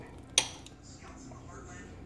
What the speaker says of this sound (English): So there's my skillet.